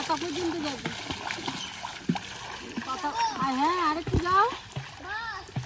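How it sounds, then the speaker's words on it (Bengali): Someone swimming in clear water, with splashing and sloshing heard close by under a voice and other chatter throughout. "আর গুল্লু ওদিকে সাঁতার কাটছে দেখলে।"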